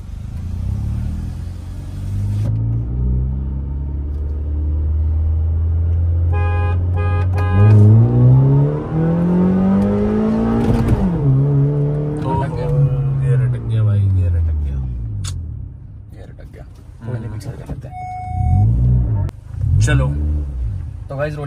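Hyundai i20 N-line and Honda City, both manual, launching from a first-gear roll in a drag race, engine notes rising loudly as they accelerate and shift, with people talking over the run.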